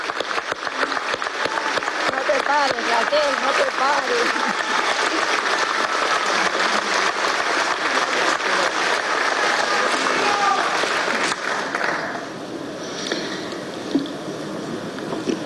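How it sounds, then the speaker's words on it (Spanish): Sustained applause from a crowd at a Venezuelan commission's final report presentation, honoring a staff member; dense clapping fills most of the stretch, with a voice calling out over it before the clapping thins near the end. "Vamos a darle un aplauso a Raquel."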